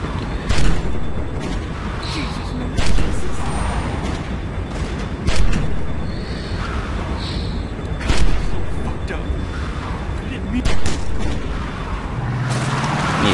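Gunfire during a car chase in the video game The Walking Dead 400 Days: sharp, loud bangs spaced a few seconds apart over a constant rumbling engine and road noise.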